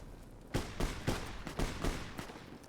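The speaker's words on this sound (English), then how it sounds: "I'm hearing these gunshots everywhere." Distant gunfire in Fallout New Vegas: five or six sharp shots spaced about half a second apart, echoing over quiet game ambience.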